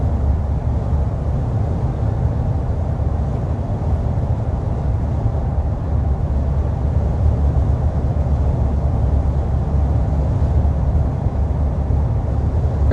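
Steady low road and engine rumble inside the cabin of a 2026 Nissan Frontier V-6 midsize truck cruising at 55 mph with the fan on its lowest setting, continuous and even throughout with no talk.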